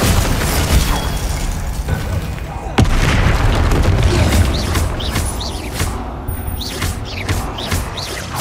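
Spell blasts and explosions from combat in Hogwarts Legacy, with dense, booming bursts and crackling impacts that rumble continuously, including one sharp hit, all loud and close.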